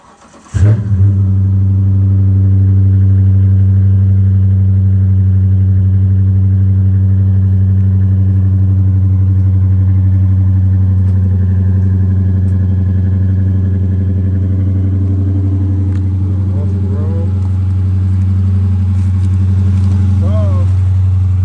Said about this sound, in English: this is the cold start before the exhaust.